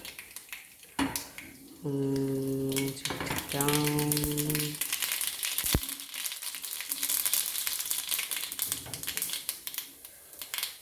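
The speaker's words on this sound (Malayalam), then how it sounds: "എണ്ണ ചൂടായി അപ്പോൾ നമുക്കിത് കുറച്ച് കടുകിടാം" Mustard seeds spluttering in hot coconut oil for a pineapple pachadi: after a brief spoken passage, a dense run of sharp crackles and pops sounds close by, fairly quiet and irregular.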